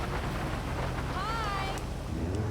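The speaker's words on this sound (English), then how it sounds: "We got some rain." Rain falls in the GTA 5 video game, a steady, even hiss of downpour mixed with faint tonal game sounds running across the whole stretch.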